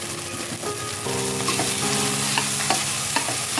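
Asafoetida hits hot oil while tempering for a Konkan-style chickpea usal with sun-dried jackfruit seeds, giving a steady close sizzle with stirring scrapes and small clinks throughout.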